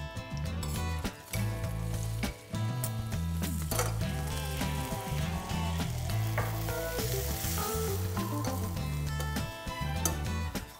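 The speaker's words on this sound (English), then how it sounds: "I'm gonna add my half cup of flour to my melted butter, and I wanna make sure I whisk it all in right away" Flour whisked into sizzling melted butter for a roux on a stovetop at medium heat, a steady close fry-sizzle with whisk stirring, set against continuous background music, with no talking.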